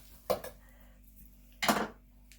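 A spoon clinks against dishes twice, two short bright metallic clatters about a second apart in a quiet room.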